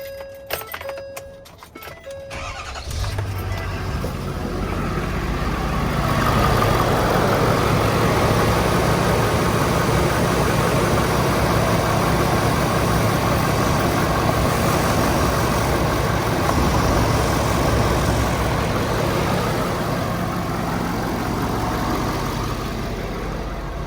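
A Ford 6.7 Super Duty diesel idles steadily with a blown intercooler pipe, a broad constant rush of escaping air layered over the low engine rumble, loud and close after a brief startup.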